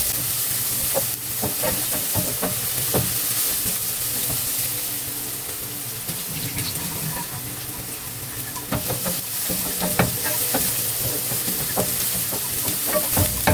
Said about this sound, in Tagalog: Haluin lang natin hanggang sa mag-caramelize yung linagay nating sibuyas